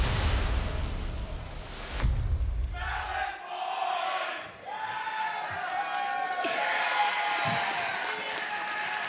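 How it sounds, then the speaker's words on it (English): Crowd cheering and roaring at the Clash Royale League 2023 World Finals esports event, a loud sustained swell of many voices with scattered shouts and claps, continuing steadily throughout. "Crowd getting very excited for the melon shirt here."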